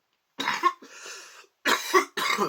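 A person coughs several times in quick, harsh bursts, close and fairly loud, with a short raspy pause between fits.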